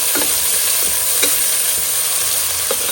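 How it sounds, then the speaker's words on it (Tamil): Sliced onions and green chillies sautéed in a pan for chicken dum biryani, a steady loud sizzle running throughout with a few soft stirring scrapes of a spatula, no voices. "ஆனியன், எல்லாத்தையும் சேர்த்து நல்லா வதக்கிடலாம்"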